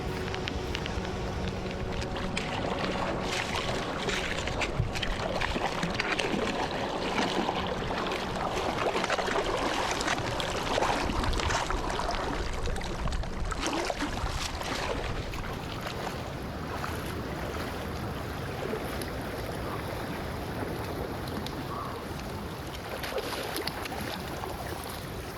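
Creek water rushes steadily at a backpacking creek crossing on Big Pine Creek, a loud continuous wash of flowing water with gusty texture and no talking.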